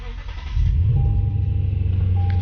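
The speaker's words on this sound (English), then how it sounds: "Turn on the car." A Lexus RC F being switched on: the engine catches and settles into a steady, loud, close idle rumble, alone with no talk.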